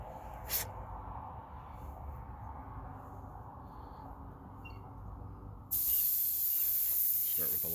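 A spray gun lays a light coat of paint on a custom Mustang fastback in a basement. After a brief pop and a low background hum, a steady loud hiss begins near the end.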